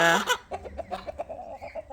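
Chickens cluck close by in a quick run of short, soft calls after a louder squawk at the start.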